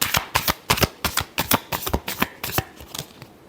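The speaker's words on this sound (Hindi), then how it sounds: "Last shuffle." A deck of tarot cards is riffled and shuffled up close, giving about a dozen crisp rhythmic flutters in quick succession. No talk.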